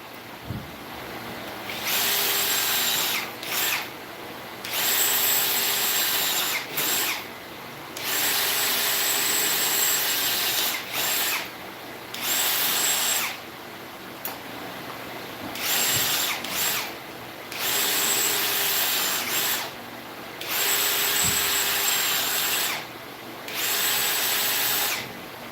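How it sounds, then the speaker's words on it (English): A power drill bores out welds on metal in repeated bursts of several seconds each, a loud, high whine starting and stopping about ten times with short quiet gaps between. "Then all I'm going to do is drill out the welds."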